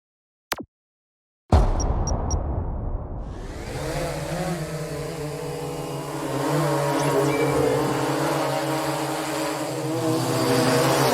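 A DJI Phantom drone spins up and flies, its propellers rising to a loud, steady, high-pitched buzz with a wavering whine as the motors adjust, heard close and alone after a brief click and silence.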